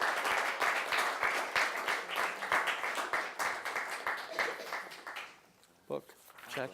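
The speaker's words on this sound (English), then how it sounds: "let's give a warm round of applause for Giovanni Santalucia" Warm applause from the audience at a New York high school poetry awards ceremony, dense and sustained for about five seconds before dying away, with a voice speaking briefly near the end.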